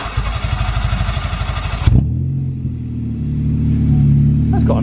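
EJ9 car engine fitted with a full custom exhaust system, with a rapid throbbing rev that cuts off and settles into a deep, steady idle rumble, close and loud.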